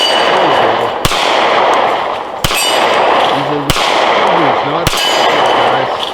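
Canik MC9 pistol shots ringing off steel targets: four loud, sharp reports spaced about a second apart outdoors, each followed by a metallic clang, with a brief spoken word in between.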